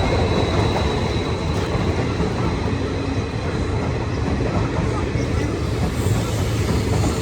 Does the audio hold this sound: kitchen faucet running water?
no